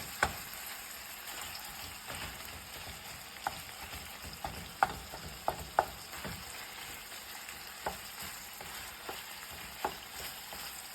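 Ground meat for chili mac frying in a pot while being broken up, a steady soft sizzle punctuated by sharp scrapes and taps of a utensil against the pot at irregular intervals, no talking.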